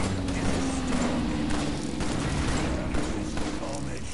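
Gunfire in the video game Killing Floor, rapid overlapping shots in a dense fusillade that keeps up without pause, loud and close, with faint voices mixed underneath.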